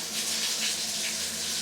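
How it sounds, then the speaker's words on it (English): A home shower runs with a steady, even hiss of spraying water, continuous and close, with no talking over it. "I'm just running a shower because I want to have a shower."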